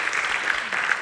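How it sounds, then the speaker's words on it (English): An audience claps at a school open house for parents, dense steady applause from a crowd filling the room, loud and close. "One more round of applause."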